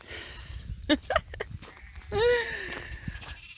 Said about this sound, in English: And here comes the sheep.